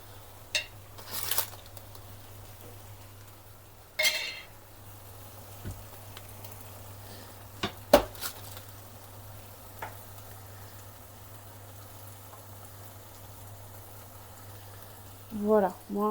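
A hot frying pan with oil sizzles faintly under sparse speech, broken by a few sharp clinks and scrapes of utensils and pans at irregular intervals.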